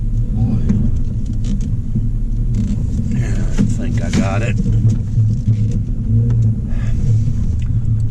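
A big truck engine rumbles low and steady throughout while the vehicle maneuvers near heavy machinery on a hillside road at the Cerro Gordo ghost town, with someone talking over it.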